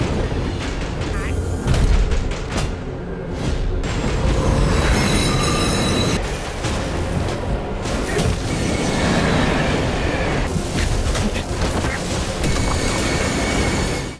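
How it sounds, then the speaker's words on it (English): A damaged train crashing, a loud continuous roar of rumbling rail noise with screeching metal and heavy booms, sustained throughout with voices faintly mixed in. "the damaged train crashes, causing the car to tilt sharply over a precipice"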